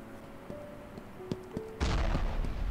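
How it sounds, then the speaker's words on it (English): Scattered sharp shots crack at a distance, then a heavy booming blast swells and rumbles; gunfire and explosions in the video game Ravenfield, with a game-like quality. "I hear explosions going on"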